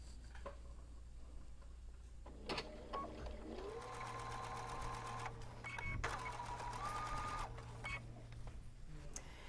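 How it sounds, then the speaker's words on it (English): A sewing machine top-stitches around the edge of a fabric casserole hot pad, producing a steady, close mechanical whir with fine rapid ticking that speeds up and slows over several seconds. "now we're going to stitch this closed and also stitch around the edge"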